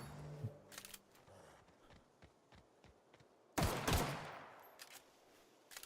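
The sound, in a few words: gunfire from the video game The Outer Worlds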